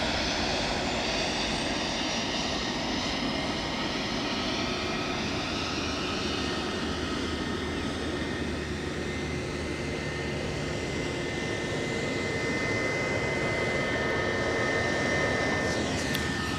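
An Airbus A321 airliner on final approach at Edinburgh airport, its engines making a steady, broad roar that holds at a moderate distance for the whole stretch, with a whining tone and a slight swell near the end and no talking.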